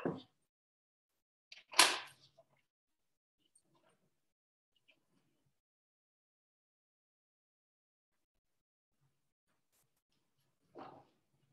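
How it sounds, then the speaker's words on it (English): A pet dog named Myra barks indoors in a few short, separate outbursts, one at the start, a louder one near two seconds and another near the end, with near silence between them. "My dog Myra unnecessarily barks at things"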